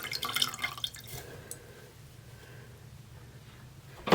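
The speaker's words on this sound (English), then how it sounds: "you can hear how much water I'm squeezing off of that" Water drips and trickles as a soaked loop-yarn water balloon is wrung out by hand, with a brief run of splashy drips at the start, a quieter stretch, and a final splash.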